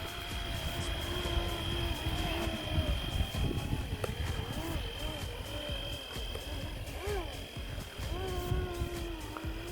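A Flywing Bell 206 radio-controlled model helicopter lifting off slowly, its steady whining rotor and motor hum holding close and constant, with someone talking over it.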